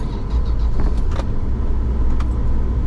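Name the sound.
Toyota Land Cruiser 80 Series engine running after starting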